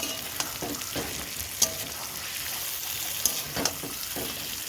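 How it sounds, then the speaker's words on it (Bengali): Potatoes and eggs fry in a pan with a steady, close sizzle, while a few sharp clinks and scrapes of stirring stand out over the hiss. "আলু আর ডিমটা দিয়ে আমি কিন্তু খুব সুন্দর করে কষিয়ে নিলাম।"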